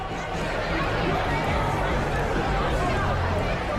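A restless crowd of anxious bank depositors crammed into a branch makes a dense, constant babble of many overlapping voices, with no single speaker standing out.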